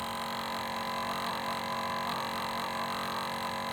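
A faulty computer CPU cooler gives off a loud, constant electrical hum with a steady buzzing drone and fixed tonal whine, close and unbroken, with no talking.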